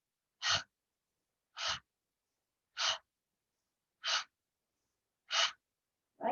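Five or six sharp, forceful breaths through the nose and mouth during a breathing exercise, evenly spaced about a second apart with silence between, close and clear.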